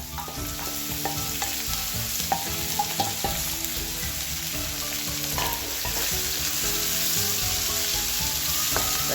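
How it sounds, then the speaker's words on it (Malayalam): Onions and chilies frying and being stirred in a hot pan for a pepper chicken dish, with a steady loud sizzle and repeated scraping knocks of the spoon against the pan. "നല്ലപോലെ ഇളക്കി കൊടുക്കുക"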